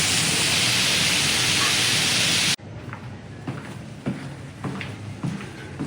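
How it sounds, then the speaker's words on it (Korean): Water sprayed outdoors at a resort on Dubai's World Islands, a dense loud hiss like heavy rain that runs steadily, then cuts off abruptly to a quieter room with scattered small sounds. "비가 오는 게 아니라 물을 뿌리는 거였습니다"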